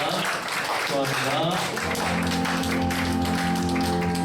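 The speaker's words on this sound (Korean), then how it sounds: "우리 큰 박수로 다시 한번 축복하도록 하겠습니다" Congregation applauding during a youth church service blessing as flowers and gifts are handed over, clapping at first, then sustained music tones take over under the crowd.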